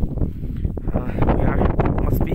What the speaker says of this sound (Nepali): हावा एकदम चर्को छ, चिसो छ